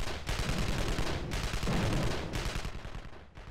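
Guns firing in the video game Evil Genius, with dense, overlapping bursts of rapid gunfire in clustered volleys, fairly faint and distant-sounding.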